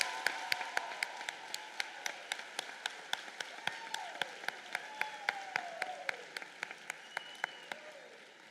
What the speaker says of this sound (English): Let's give one more round of applause and thanks to these individuals and to the graduates.